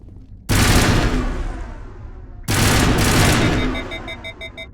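Assault rifle fire in Mass Effect, two loud sustained automatic bursts of roughly two seconds each separated by a short gap, followed by rapid electronic beeping as the weapon overheats.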